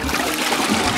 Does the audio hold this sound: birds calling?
no